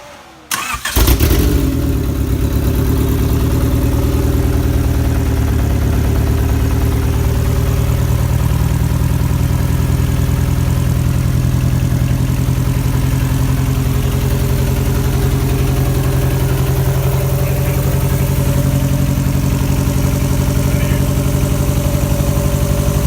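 A turbocharged D16 engine in a 1989 Acura Integra with a new fuel system cranks briefly and catches, then settles into a steady, loud, rough idle that runs unbroken, with no voices.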